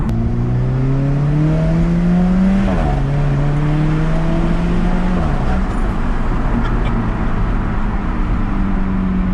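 Alfa Romeo 4C engine revving hard under acceleration, the pitch climbing steadily then dropping briefly at two gear changes before rising again; loud, close and continuous, with no talking.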